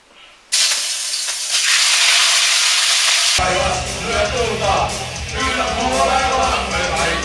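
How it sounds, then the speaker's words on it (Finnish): Meat hits hot oil in a wok and bursts into a loud, steady sizzle that runs on for several seconds, then settles into a busier, crackling fry with stirring as a voice seems to talk over it. "pannu on kuuma, eli lisätään tää liha tänne sitten varovasti"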